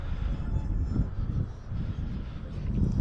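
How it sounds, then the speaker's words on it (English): Strong wind roars continuously across an open airfield, a heavy low rumble that gusts and swells throughout at close range, with no talking. "oh, wind is picking up bad"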